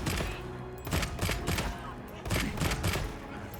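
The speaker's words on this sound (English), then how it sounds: "Just keep shooting." A very large gun firing repeatedly in a monster-hunting video game, heavy booming shots in uneven bursts over a dense, continuous game soundscape.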